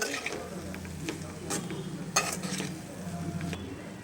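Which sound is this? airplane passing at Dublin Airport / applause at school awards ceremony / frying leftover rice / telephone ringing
frying leftover rice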